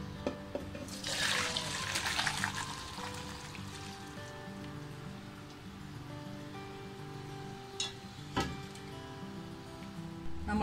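Boiled spaghetti noodles poured into a strainer give a brief rushing splash of water, then fainter dripping and trickling with a few clinks of the pot.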